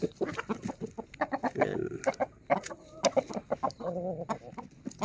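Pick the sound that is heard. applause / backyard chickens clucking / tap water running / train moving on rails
backyard chickens clucking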